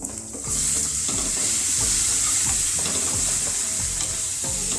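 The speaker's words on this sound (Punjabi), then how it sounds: "ਮਟਰ ਪਾ ਕੇ ਆਪਾਂ ਮਿਕਸ ਕਰ ਦਵਾਂਗੇ" Peas stirred into a sizzling masala in a frying pan for aloo samosa filling, a steady loud fry hiss with repeated scraping strokes of a spoon roughly every half second, no voices.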